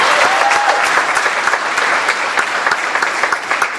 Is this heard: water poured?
no